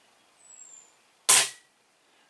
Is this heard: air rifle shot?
yes